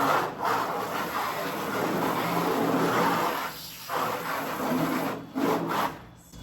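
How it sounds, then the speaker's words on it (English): A sponge with soap and water scrubs the underside of a silkscreen on a tabletop printing setup, a steady wet rubbing that runs continuously with a few brief pauses. "Give the other side a little scrub."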